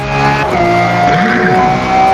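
Race car engine roaring in Forza Motorsport, loud and sustained with shifting engine pitch and tire squeal as the car works around a hairpin, with another car audible nearby.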